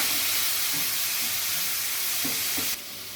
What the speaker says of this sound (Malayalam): അത് ആവശ്യത്തിന് നമുക്ക് ഒഴിച്ചു കൊടുക്കാം.